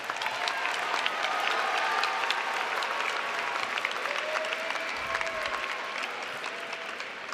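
Audience applause for graduates at a college commencement ceremony, a dense sustained burst of clapping from a large crowd that continues steadily and tapers slightly toward the end.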